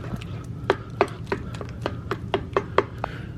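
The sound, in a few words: mashing potatoes with a rice spatula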